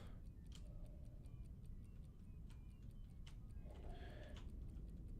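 An alarm clock ticks faintly and steadily within the stealth game Sir, You Are Being Hunted, its soft clicks sitting over a low, rumbling ambient wash with occasional faint chimes.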